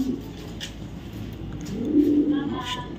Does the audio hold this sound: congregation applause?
no